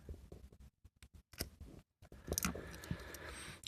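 Insulating tape cut with scissors at a workbench while wiring salvaged lithium cells: a few quiet, crisp snips spaced apart, with light handling rustle between them and no talking.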